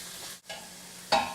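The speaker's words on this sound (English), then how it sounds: "And I'm just chopping this up into bite-sized pieces." Ground beef sizzles in a hot pan while a utensil chops and stirs it, giving a steady fry with a brief gap and then a sharper scrape and crackle near the end.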